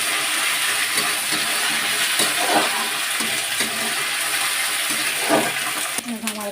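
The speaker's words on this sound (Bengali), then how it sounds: "আমি আদা রসুনের পেস্টটা দিয়ে দেবো ওইটা ওই পেঁয়াজের সঙ্গে আমি ভেজে নেব" Ginger-garlic paste fries with onions in a home kitchen pan, a steady close sizzle with occasional stirring scrapes and a faint voice in the background.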